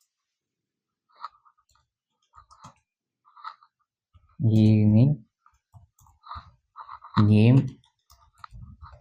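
Clicking taps on a computer keyboard come in short scattered bursts, close and fairly light, while someone speaks briefly between them.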